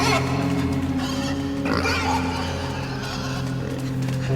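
A pig grunts and snorts in the video game INSIDE, with the grunting sitting under a steady hum of game music and ambience, loud and close throughout.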